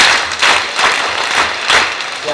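A group claps a bell-pattern rhythm together in a meeting room, producing soft, smeared bursts of many hands in an uneven repeating groove, steady and moderately loud.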